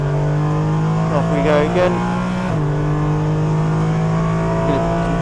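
A Porsche 718 Cayman GT4 Clubsport's engine pulls hard at full power on the Snetterton 300 circuit, a loud steady drone that climbs in pitch, dips briefly at a gear change, then keeps rising, with a driver talking over it.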